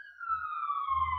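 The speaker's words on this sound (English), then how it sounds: "the ambulance is coming by." An ambulance siren passes close by, a loud, steady wailing tone that slowly falls in pitch as it goes, with low rumbling traffic noise beneath.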